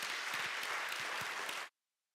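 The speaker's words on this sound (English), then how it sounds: "Let's give him a big round of applause for that." A school board meeting audience applauds a Division III state champion wrestler in the 195-pound class; brisk, fairly close clapping runs steadily for under two seconds, then cuts off abruptly to silence.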